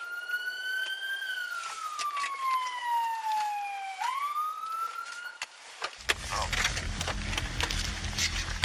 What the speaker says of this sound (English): the police sirens are going off as well